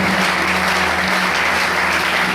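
A church congregation applauding during a worship service, dense loud clapping filling the room steadily from start to finish.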